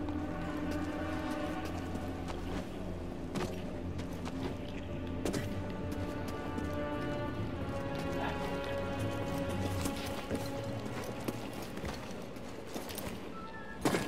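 Horse hooves clop steadily on the ground in the video game Jedi Fallen Order, a continuous rhythmic patter mixed in with game music and ambient sound and no clear talk.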